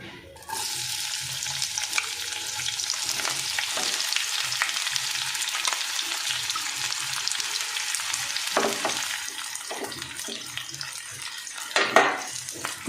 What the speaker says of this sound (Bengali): তেলটা একটু গরম হলে কুচনো পেঁয়াজগুলো এর মধ্যে ছেড়ে দেবো